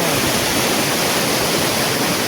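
A fast, milky-white mountain river in rural Azad Kashmir rushes in a loud, continuous roar of churning water, with dense even hiss and no pauses or voices.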